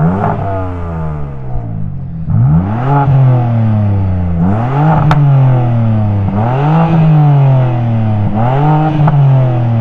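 A BMW engine revs hard several times in a row, each sharp rise in pitch followed by a quick drop back to idle, loud and close with a clattering edge.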